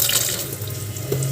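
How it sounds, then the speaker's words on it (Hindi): Hot water poured into a cooking pot while making matar paneer, a steady splashing gush of liquid, close and continuous, with no talk. "गर्म पानी करके थोड़ा से डाल देते हैं"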